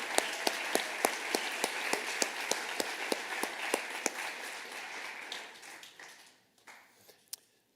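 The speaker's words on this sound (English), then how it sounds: "Let's give these folks a big round of applause" Applause for high school award recipients, with a crisp, steady rhythm of evenly spaced individual claps standing out over a softer crowd clapping that fades out, followed by a few scattered late claps.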